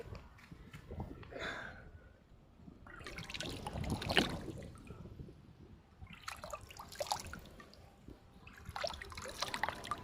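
Water flowing and trickling in a farm field, with a soft, uneven gurgle and splashing that swells in several waves, heard close and fairly quiet.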